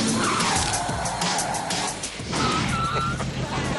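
A car skids with squealing tires as it strikes a man in a stunt, the screech sweeping across the first seconds and a second squeal following, with voices heard in the background.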